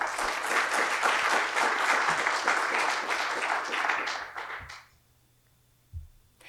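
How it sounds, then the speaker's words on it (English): Enthusiastic audience applause at a startup pitch event, loud and sustained for about four seconds, then quickly fading to near silence with a single soft thump. "a round of applause for the third team pitching"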